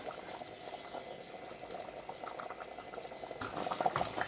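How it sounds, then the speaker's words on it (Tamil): A pot of chickpea curry bubbles steadily on the stove, soft continuous boiling with a faint burbling that grows a little louder near the end; no one speaks. "அப்படியே நம்ம கொதிக்க விட்ருக்கோம் அடுப்பில் நல்லா கொதிக்குது"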